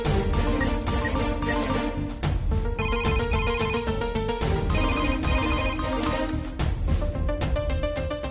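A telephone ringtone rings continuously, a loud melodic electronic tune that repeats without pause, with no talk over it.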